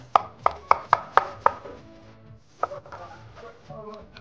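Knife chopping onions on a cutting board for sisig, six sharp evenly spaced chops close up, then a pause and a few more scattered cuts.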